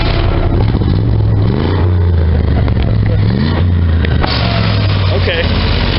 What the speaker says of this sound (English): Rev her up one time.